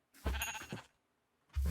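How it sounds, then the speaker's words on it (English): Sheep in the Minecraft video game let out two quick bleats close together, loud and clear, followed by a brief pause and the start of another bleat. "Oh, and I hear sheep."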